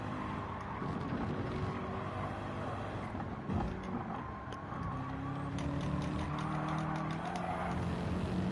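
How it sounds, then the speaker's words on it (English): Race cars at speed in Gran Turismo 7 during an online qualifier at Maggiore, Italy, with a steady engine drone throughout and another car's engine swelling as it passes. "Move over. Fast car coming by."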